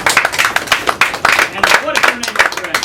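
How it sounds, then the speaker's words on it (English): A small magic-show audience claps for a volunteer called up on stage, brisk close hand claps in an irregular patter with voices speaking over them. "Give him a nice round of applause."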